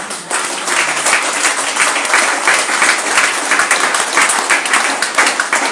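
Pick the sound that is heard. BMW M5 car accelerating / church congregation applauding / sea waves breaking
church congregation applauding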